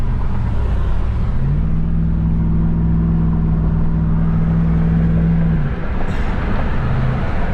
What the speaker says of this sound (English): Traffic, look at that. Traffic ain't going nowhere.